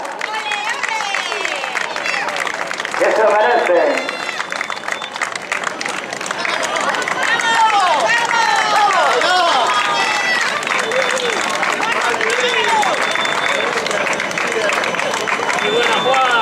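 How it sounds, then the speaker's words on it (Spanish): Crowd applause and cheering at the XXXIII Carreira popular Concello de Meaño 2017, a popular running race: steady clapping and hubbub under a loud announcer speaking Spanish through a public address system. "Vamos, ese aplauso. Que nos vayan las palmas."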